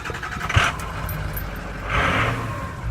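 A 2006 Ford 350 diesel service van engine idling, a steady low rumble with a brief thump early and a swell of brighter mechanical noise near the end, heard alone.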